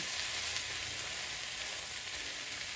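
Birria meat sizzles steadily in a pan, a constant bright hiss of frying held at an even, moderate level throughout, with no talking.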